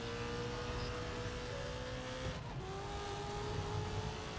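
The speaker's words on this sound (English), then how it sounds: "This car sounds amazing." A race car's engine in the video game GRID Legends holds a high, steady drone that briefly dips and then climbs again, with a faint tire squeal.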